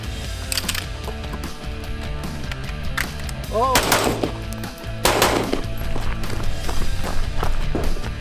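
Gunfire at an outdoor shooting range offering rifle, handgun and shotgun lanes, several sharp loud reports cracking out at irregular intervals over steady ambient noise and mechanical clatter.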